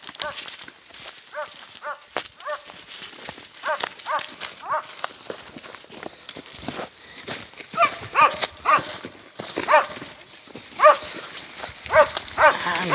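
Several dogs bark repeatedly at varying distances amid farm animal noise, with sharp yelps scattered across a busy outdoor background.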